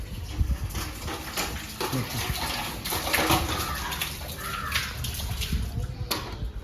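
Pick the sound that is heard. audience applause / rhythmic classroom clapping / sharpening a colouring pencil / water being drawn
water being drawn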